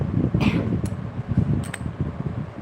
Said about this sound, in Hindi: पंखा धीरे धीरे पर चलेगी